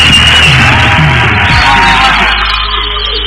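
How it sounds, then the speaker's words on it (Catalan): A television game-show studio audience cheers, yells and whoops loudly as one sustained crowd roar, with shouted voices on top in the first half, then the noise settles into a steady broadband wash. "Un fort aplaudiment!"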